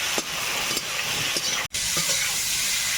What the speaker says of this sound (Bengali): আলুটা একটু আগে প্রথমে ভেজে নেব